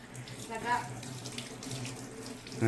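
Water runs from a household tap, a quiet steady flow with faint background voices in a home.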